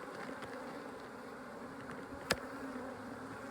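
Honeybees buzz steadily on a hive frame during a laying-worker problem, a soft continuous hum heard close up, with one brief sharp click partway through.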